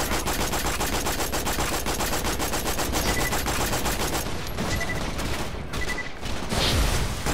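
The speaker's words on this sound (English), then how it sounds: "I think I can just shoot the ceiling" Sustained automatic gunfire in the video game Borderlands 2, aimed at a ceiling: a loud, unbroken rattling stream of shots that keeps up for several seconds before breaking into shorter bursts.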